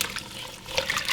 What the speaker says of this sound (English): I'm just going to pour a little bit of water on it, just to barely cover it.